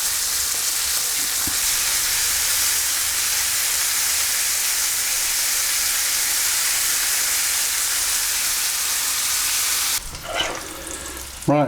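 Steak sizzles in a hot pan as it cooks for a panini, a loud, continuous, close frying hiss that goes on steadily for about ten seconds before a brief clatter of handling near the end.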